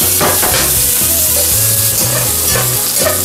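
Loud, steady sizzle of onions sautéing in a frying pan, with rhythmic scraping strokes of a spatula stirring them throughout, close up and continuous.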